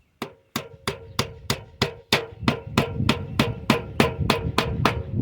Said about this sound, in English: just hammer it up into that fascia board